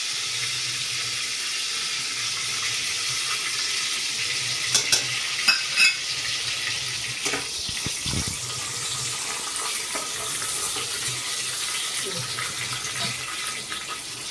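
Whole spices sizzle in hot oil in a pan for mushroom pulao, a steady bright hiss throughout with a few sharp clinks and scrapes midway, close and moderately loud.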